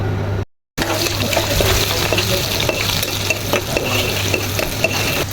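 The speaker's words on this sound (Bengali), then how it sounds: "কড়াই গরম হয়ে গেছে এখন এই যে তেলটা দিয়ে দিচ্ছি" Oil poured into a hot wok with onion and prawns gives a loud, crackling sizzle after a brief silent cut, then a steady hiss with occasional scrapes.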